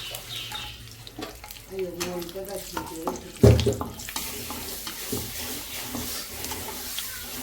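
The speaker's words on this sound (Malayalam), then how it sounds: "നെയ്യ് ചൂടായി നമുക്ക് ആദ്യം തന്നെ അതിൽ അണ്ടിപ്പരിപ്പ് വറുത്ത് പോയാം" Cashew nuts fry in hot ghee in a pan for an egg biryani, a soft, steady sizzle with scraping stirring sounds and one brief louder clatter.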